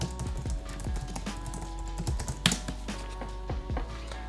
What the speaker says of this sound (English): So let's just type in our email address.